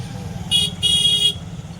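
Two car horn honks, one short and one longer, ring out over a steady low rumble of engines in a massive traffic jam of police and official cars in Ghatal during a chief minister's visit.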